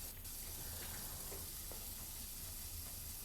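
Flatbread fries in a pan brushed with leftover stir-fry oil, giving a soft, even sizzle and hiss with a few faint ticks, fairly quiet and uninterrupted.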